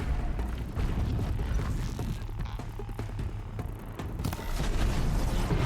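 Explosions and gunfire rumble through a fight in Horizon Zero Dawn: a dense run of booms and sharp bursts, loud and continuous, ending in a heavier blast.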